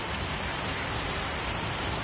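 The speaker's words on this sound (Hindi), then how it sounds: "बारिश इतनी तेज गति से वहां से आ रही है" Heavy rain pours down steadily, a dense, constant hiss filling the space with no pauses or voices.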